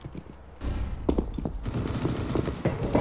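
A flashbang grenade detonates in a video game: a sudden loud burst followed by a thin high ringing tone, with scattered gunfire-like cracks and thumps continuing around it.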